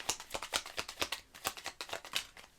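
A deck of 36 tarot cards being shuffled by hand, a rapid run of crisp riffling snaps repeating about a dozen times, close and clear with no talking.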